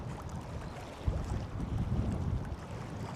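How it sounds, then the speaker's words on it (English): A large ferry passes out at sea near a fish quay, a steady low engine rumble and wash mixed with gusty wind buffeting the microphone throughout. "Big ferry coming in as well."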